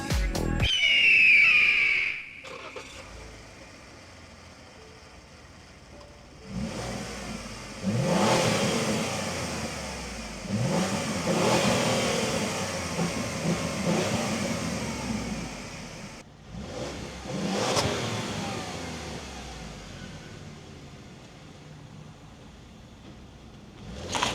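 A 2017 Ford Fusion with the 2.7 EcoBoost engine revs up close in several rising bursts, each climbing and then dropping back to a lower drone between pulls. No voices are heard.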